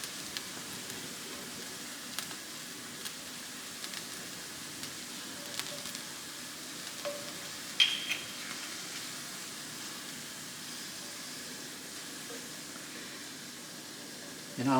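Garlic sizzles in a pan for steak Diane, a steady hiss and crackle that runs throughout with small pops scattered through it, close and moderately quiet.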